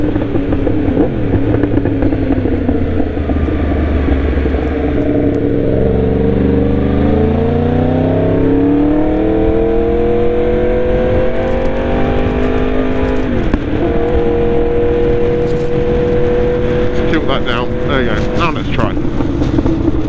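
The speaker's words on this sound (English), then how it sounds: "I'm going to try and educate you how to engine brake while I ride to the petrol" A motorcycle on the road downshifts and engine-brakes without an auto-blipper, its loud engine note repeatedly dropping and climbing in pitch through gear changes under constant wind rush.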